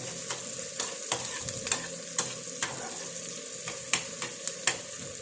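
Tapioca biryani ingredients being sautéed in a pan, with a steady close sizzle broken by repeated sharp scrapes and taps of a spoon stirring, no voices.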